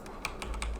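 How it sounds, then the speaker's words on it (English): Quick taps on a computer keyboard during Unity coding: a handful of close, crisp key clicks in an uneven rhythm over a low steady hum. "my keyboard's messed up right now and I literally can't"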